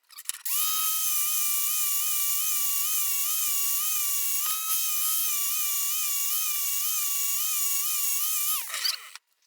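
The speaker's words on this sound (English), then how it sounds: "Now I'm going to switch over to the quick strip disc." An angle grinder fitted with a quick strip disc works bare steel door bars on a drift car roll cage, a steady high-pitched whine held for about eight seconds with slight wavering as pressure shifts.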